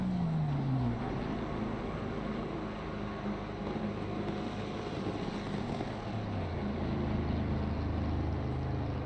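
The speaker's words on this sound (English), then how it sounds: "you can hear those engines just coming in the pit entrance there" Several race car engines in a sim racing game drone and whine steadily at the Circuit of the Americas pit entrance, one pitch sliding down as a car slows, a continuous mechanical roar with no talking.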